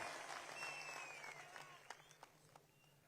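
Audience applause at a political speech in Maharashtra, fairly faint and distant clapping that thins out into a few scattered claps, with a faint tonal voice trace early on.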